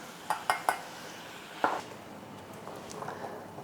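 A metal lid clinks onto a pot of stewing peppers: a few sharp knocks close together, then one more clatter, faint and close in a quiet kitchen.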